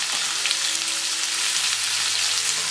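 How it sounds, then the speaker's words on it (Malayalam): Sliced onion, garlic and green chilli fry in a pan for carrot rice, giving a continuous, even, close sizzle with faint stirring and no voices. "വെളുത്തുള്ളി ചേർത്ത് നന്നായിട്ട് വഴറ്റി കൊടുക്കണം"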